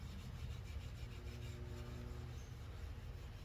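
Steel wool rubbing down a wooden SKS rifle stock coated with two coats of Tru-oil, a steady close-up scratchy friction with no pauses and no talking.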